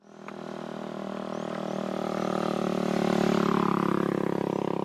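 Motorcycle ridden along a hilly rural road in Barangay Lingating, its engine droning steadily close by and swelling gradually louder as it gains speed, with no talking.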